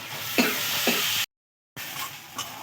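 Fried potato and cauliflower are stirred in a pan with fish heads, giving steady sizzling broken by scraping stir strokes, then a brief silent gap before the frying resumes.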